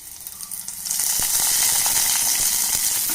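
Dried red chillies and curry leaves dropped into hot oil burst into a loud, steady sizzle with crackling pops, rising sharply after a quieter start.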